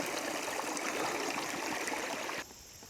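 Water flowing in a small rocky stream on a hike, a steady close rushing and trickling that continues alone and then drops off sharply near the end.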